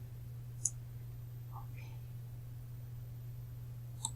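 Computer mouse clicks, a few isolated sharp ticks spaced apart over a steady low electrical hum, close and quiet.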